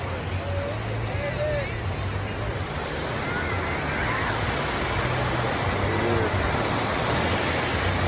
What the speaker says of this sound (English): You could listen to the ocean sound all day.